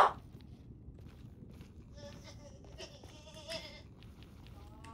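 A Minecraft sheep bleats in a couple of short, nasal wavering calls midway, over soft background noise and faint footsteps.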